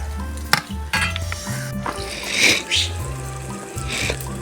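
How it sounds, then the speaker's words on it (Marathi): Surmai (kingfish) pieces fry in a pan over a wood-fired stove, a soft sizzle beneath clinks and scrapes of utensils and a few sharp knocks, with faint talk in the background. "सुरमई फ्राय करतायत एक एक मी फ्राय केला तुकडा"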